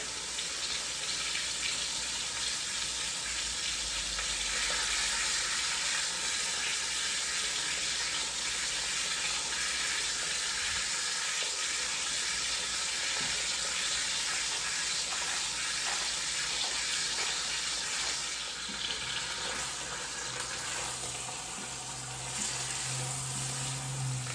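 A thick-cut beef pot roast, salted and peppered, sears in a hot pan, giving a steady, dense sizzle that runs unbroken and fairly loud throughout with no talking.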